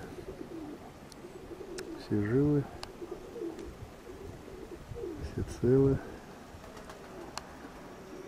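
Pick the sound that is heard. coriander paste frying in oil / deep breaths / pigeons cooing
pigeons cooing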